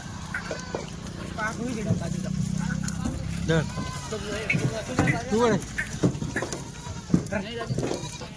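A large Kathiawari goat bleats several times in short wavering cries at a goat sale, mixed with people talking nearby and general farmyard noise.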